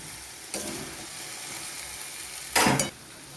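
Jackfruit and potato chunks sizzle in a pan with spices during sautéing, a steady broadband frying hiss with two louder bursts of stirring, the second sharp and brief, no voices.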